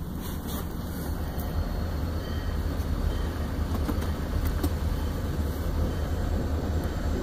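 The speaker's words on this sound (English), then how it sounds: "here's the second crossing I'm going to be chasing this train at." A Buffalo and Pittsburgh Railroad train rolls slowly past a grade crossing near an airport in Rochester, NY, a steady low rumble with faint clanks held at constant loudness throughout, heard from nearby with no voices.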